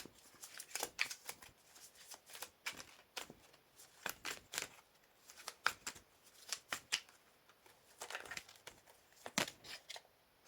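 Tarot cards being drawn and shuffled during a spread, giving a run of soft, quick papery flicks and slides in irregular bursts, close and fairly quiet with no talk over them.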